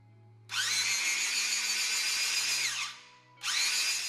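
A vintage Black & Decker Gold Series 1/2-inch electric drill, freshly restored and greased, whirs loudly with a high steady whine for about two seconds, winds down, then starts again.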